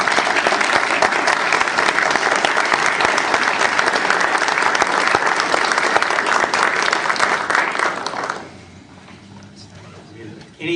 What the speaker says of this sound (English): But how about a round of applause for all these legislators?